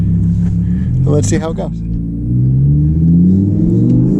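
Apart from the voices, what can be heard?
Audi R8 RWS driving in manual mode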